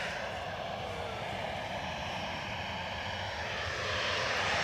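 An Aer Lingus turboprop from Dublin at Edinburgh Airport delivers a steady, close propeller and engine drone with a broad hiss, growing slightly louder near the end, with no voices.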